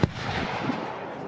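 Musket and cannon fire at an English Civil War Society battle reenactment at Military Odyssey 2025: one sharp, loud report at the very start, followed by a rumbling, fading echo.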